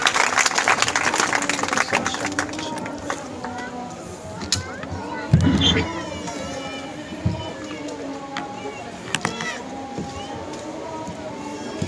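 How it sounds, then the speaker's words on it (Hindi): Audience applause welcoming a guest at a school certificate ceremony, a burst of clapping at the start that thins out under a voice talking over a PA, with a few scattered claps later. "भरपूर तालियों से इस्तकबाल कीजिए।"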